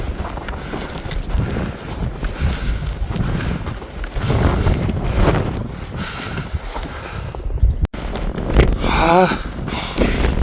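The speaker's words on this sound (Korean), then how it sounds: "바람도 많이 불고" Strong wind roars and buffets across the snowy Jungbong summit of Deogyusan in winter. The gusts blow as a continuous loud rush with a sharp knock partway through.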